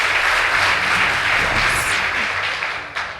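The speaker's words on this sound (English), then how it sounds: "Please give them a round of applause." Audience applause for the Plateau Girls debate team at a school debate contest, a loud dense wash of clapping that fills the clip and tapers a little toward the end.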